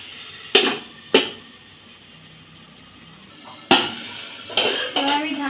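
A lid goes onto a cooking pot of taro stalks and jackfruit seeds with several sharp, ringing clanks spaced over a few seconds, over a low background hiss.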